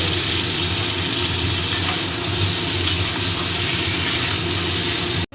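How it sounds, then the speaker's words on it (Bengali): Taro and potato pieces frying in hot oil in a pan, just after fish has been fried, giving a steady, continuous close sizzle with faint stirring clicks and no speech. "তেলে আমি এই কচু আর আলুটাকে একটু ভেজে নেব"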